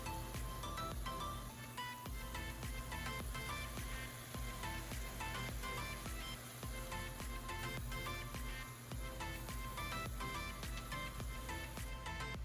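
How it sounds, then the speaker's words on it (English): Lamb fries in a padella pan, giving a continuous dense sizzle with crackling pops, steady and close throughout and with no talk over it. "our padella is sizzling. The lamb is getting nice and juicy"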